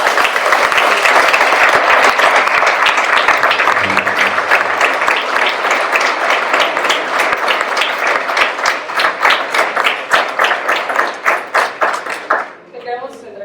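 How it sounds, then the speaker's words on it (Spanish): Loud, dense audience applause after a talk, many hands clapping steadily before thinning into separate claps and fading out near the end, with brief voices underneath. "pues un fuerte aplauso, por favor"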